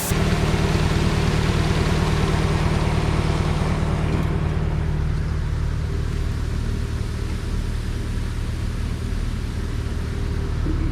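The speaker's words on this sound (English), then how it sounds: "power it up, and it runs that floating. That auger will carry the corn to the center to the sump hole." A floating auger runs inside a corn bin, moving corn to the center sump hole: a loud, continuous engine-like drone with a brief denser burst at the start, then an even, steady hum.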